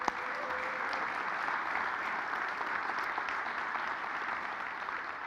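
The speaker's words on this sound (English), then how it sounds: "Let's give them a round of applause" Audience at a township State of the Township address applauding steadily, a dense, even wash of many clapping hands sustained throughout without speech.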